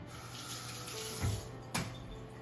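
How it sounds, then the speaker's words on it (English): Water runs from a kitchen tap while fingers are rinsed under it, a steady soft hiss with a couple of brief splashy surges, no talking. "I'm going to rinse my fingers off here a little bit."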